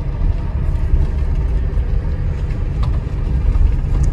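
A car engine hums at low speed during a beginner driving lesson, a steady close rumble with road noise and no break, heard alone.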